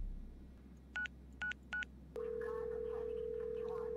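Telephone keypad tones from a dispatch phone in the video game GTA 5 roleplay: three short evenly spaced beeps, then a steady ringing or dial tone that holds to the end, moderately loud over a faint background hum.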